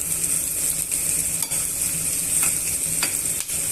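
Chicken pieces sizzling in a hot pan as they are fried for a restaurant-style dish, with a steady hiss and several scraping stirs of a spoon against the pan; no talk.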